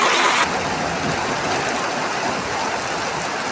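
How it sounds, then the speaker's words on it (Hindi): Heavy rain falls outdoors as a dense, loud, continuous hiss with no pauses, steady from start to finish. "बारिश भी स्टार्ट हो गई है"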